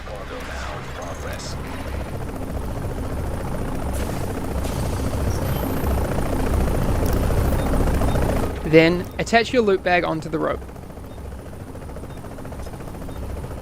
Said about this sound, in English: Find the nearest extraction point, shoot a flare, and hold tight until the helicopter arrives.